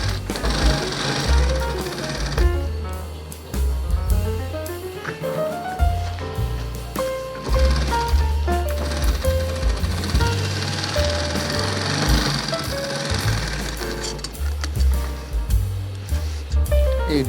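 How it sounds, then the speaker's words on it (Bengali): An industrial sewing machine double-stitches a nonwoven shopping bag, running in rapid mechanical bursts with brief stops and restarts and a loud, rhythmic motor hum throughout, with no talking. "এটাকে ডবল সেলাই দিতে হবে।"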